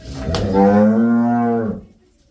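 A single loud, drawn-out cow moo close by on a dairy farm, rising then holding steady before fading into quiet.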